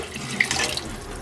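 Water runs from a tap into a pot of degi aloo gosht with potatoes, a steady splashing hiss with no voices.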